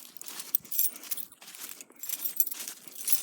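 Keys to a plow truck jangling close by, bright metallic clinks and rattles in irregular bursts with brief pauses, handled continuously and alone without speech.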